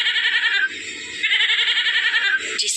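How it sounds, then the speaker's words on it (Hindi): A baby goat bleats loudly and close up in a continuous, quavering cry that breaks briefly and then resumes, ending in a sharper higher note. "एक बकरी का बच्चा था"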